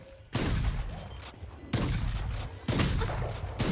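Three loud, booming shotgun blasts in a video game ring out about a second apart, each with a sharp attack and a lingering tail.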